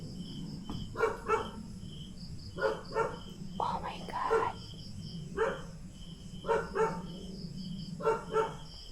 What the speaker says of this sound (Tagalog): maingay yung aso maingay may aso sa kalsada